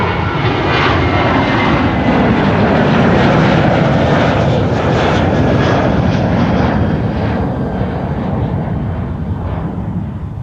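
A Boeing 737 jet airliner at Amsterdam Schiphol Airport roars loudly and continuously nearby, a broad rumbling jet-engine wash that holds steady and fades slightly toward the end, with no voices.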